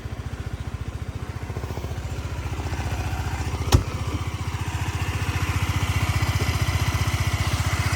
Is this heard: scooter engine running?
yes